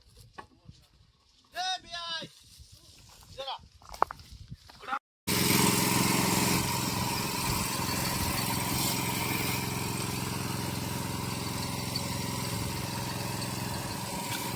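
An engine-powered sprayer roars loud and steady while spraying Alphonso mango trees on a Ratnagiri farm, starting abruptly after several seconds of people talking and a brief silence.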